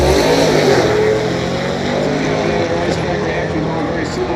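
Two cars, an SLR 5000 and an HSV 6.2, run a drag strip at a street meet, engines roaring loud and sustained at full throttle, with a commentator talking over the noise.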